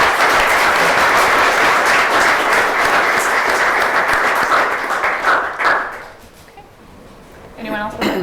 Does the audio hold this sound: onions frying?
no